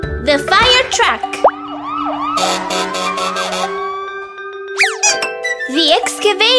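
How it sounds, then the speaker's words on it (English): A cartoon fire truck siren wails in rising and falling sweeps, loud and close, amid bright chiming music and a cheerful voice. "The fire truck."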